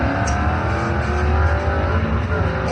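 At a drag strip, a Ford Mustang races another Ford, engines roaring loud and steady in a dense, continuous rumble that holds throughout.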